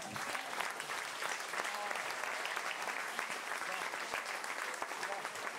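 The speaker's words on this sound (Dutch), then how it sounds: "En dan wil ik nog één groot applaus voor Femke, Quinty, Bram, Koen, Hanna en San" An audience at a school performance evening applauds steadily, a dense, even patter of many clapping hands sustained throughout at moderate distance, with faint voices mixed beneath.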